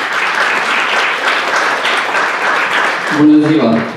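An audience at a business talk breaks into warm, dense applause for a speaker being introduced, steady clapping that fades as a voice begins speaking near the end.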